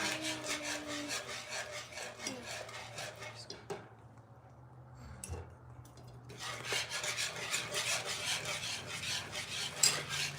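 A tasting spoon mixing food in a pot or bowl, steady scraping and rubbing strokes that pause briefly in the middle and then return, close and clear, with no talking.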